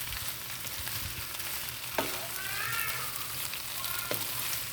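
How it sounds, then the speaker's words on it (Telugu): Potatoes fry with chili powder in a pan, a soft, steady sizzle with a few sharp clicks and scrapes as they are stirred. "ఇంకొక 2 minutes వేయించేసి ఆపేసుకోవడమేనండి."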